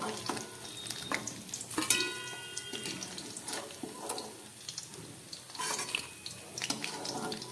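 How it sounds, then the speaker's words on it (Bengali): Cubes of paneer frying in hot oil, a steady sizzle with intermittent scraping and clinks of a utensil as the pieces are stirred and lifted out of the pan. "পনিরগুলো ভাজা হয়ে গেছে আমি তুলে নিচ্ছি"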